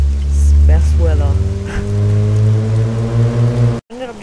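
Steady rain falls in the military video game Arma 3, a soft broadband patter beneath a droning hum and a voice.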